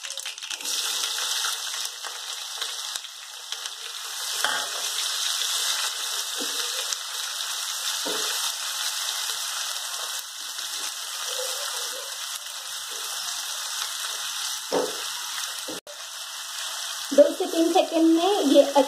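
Onion hitting hot oil that already holds popped mustard seeds and asafoetida, sizzling steadily close by with broad hiss, a louder burst of crackling near the end.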